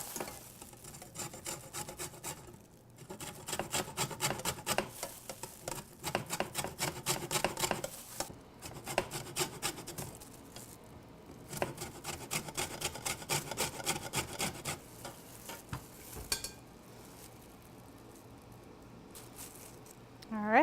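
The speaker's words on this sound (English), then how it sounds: "you're gonna have 1 lime and you're gonna zest it into the salsa" A lime is zested into salsa with a fine grater, giving repeated close, scratchy rasping strokes in bursts with brief pauses between them.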